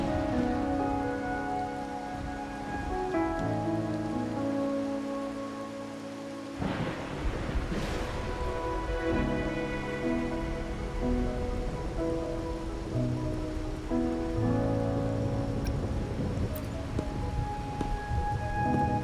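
Steady rain and rolling thunder in the video game Wuthering Waves, with a loud thunder crack partway through, heard continuously under a layer of game music with no talking.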